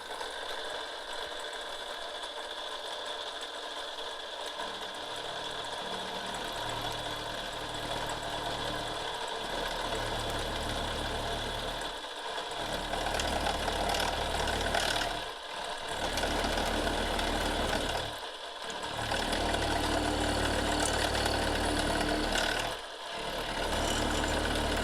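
A homemade hot knife cuts open the plastic housing of a car computer, giving a loud, steady buzzing hum that runs on for a long stretch. The hum is broken by several brief dropouts, and no one speaks.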